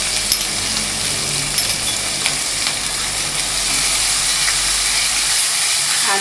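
Ginger garlic paste sizzles in a pan of gravy for a stuffed tomato dish, a steady close frying hiss with faint stirring clinks throughout, no talking.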